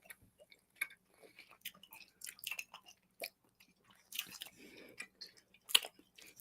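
Someone chewing taffy candy close up, soft sticky mouth sounds and small clicks in an irregular rhythm, quiet, with brief pauses between bites.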